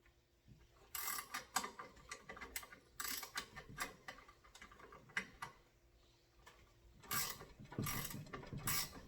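A wrench turns a reusable hydraulic hose fitting for a hydraulic steering line, giving intermittent clusters of close, crisp ratcheting clicks and metallic ticks, fairly quiet, with short gaps between the turning strokes.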